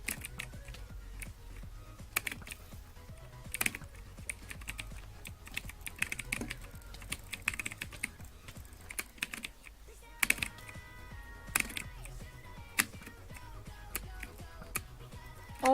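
Someone types steadily on a new computer keyboard, and the keys clatter in dense, irregular bursts close to the mic, with a few louder strikes standing out.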